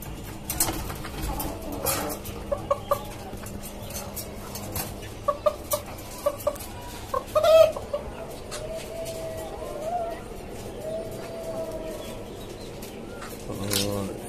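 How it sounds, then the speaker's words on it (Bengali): A caged farm holds a five-month-old tiger breed rooster and hens, which give scattered short clucks and soft coos over a quiet background. A person talks at intervals. "এখানে আমার টাইগার মোরগ আছে একটা।"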